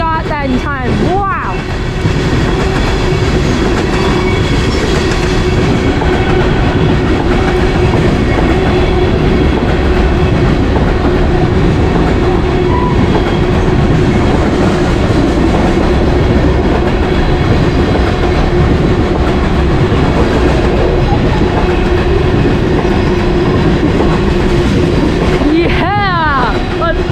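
A Norfolk Southern train led by a heritage unit passes close by in Lakewood, Ohio. Loud, continuous rolling rumble and clattering wheels fill the whole stretch, with a brief horn-like tone at the start and end.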